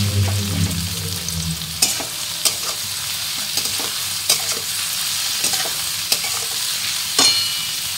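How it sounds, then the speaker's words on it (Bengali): Onions frying in a pan with a little salt, a steady sizzle running throughout while a utensil stirs and scrapes with periodic clicks, close and fairly loud, no voices. "সামান্য একটু নুন দিয়ে দেবো, তাহলে পেঁয়াজটা তাড়াতাড়ি মজে যাবে।"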